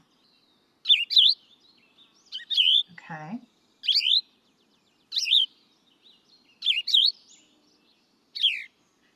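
Short bird song phrases repeat about six times at a steady pace, bright chirpy bursts heard clearly with pauses between, and a person speaks one brief word in between.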